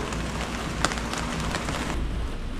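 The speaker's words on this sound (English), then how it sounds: "It's raining again." Steady rain drumming on a greenhouse roof, a dense continuous patter with a few sharper drops standing out, close and even throughout with no talking.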